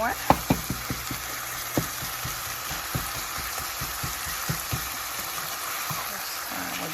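Meat browning in a hot pan for a Philly cheesesteak omelette, a steady sizzle under a constant background hum, punctuated by sharp clicks and taps of a utensil against the pan at irregular intervals.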